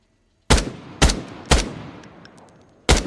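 An M16 rifle fires in Arena Breakout Infinite: four loud, close single shots, the first three evenly spaced about half a second apart, then a pause before the last, each with a booming tail and no talk.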